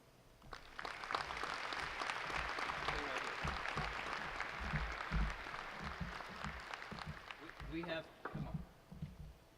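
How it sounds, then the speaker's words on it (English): A large audience at a UCLA memorial gathering applauds loudly and steadily for nearly ten seconds, dense clapping with a few cheers and voices mixed in, tapering slightly near the end. "We have to give CZ another round of applause"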